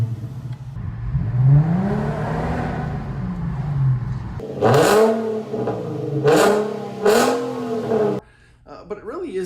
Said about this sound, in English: You get a little bit of that sort of trumpety, trombone-y noise that people make fun of the VQ platform for.